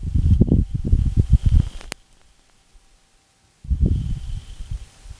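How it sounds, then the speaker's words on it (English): Wind gust of a dust devil blowing over the Perseverance rover on Mars, low rumbling bursts of buffeting that come in two loud spells separated by near silence, with a sharp click between them. "This is a dust devil, which is basically a gust of wind blowing over the rover."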